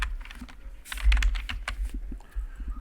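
Typing on a computer keyboard with a worn keyboard, close and distinct clicks and clacks at an uneven pace, with a few heavier thumps in between and no talking.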